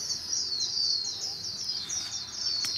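Male Japanese white-eye calling near a trap net, a thin high-pitched twittering that repeats in quick slurred phrases, moderately close and steady over a quiet outdoor background.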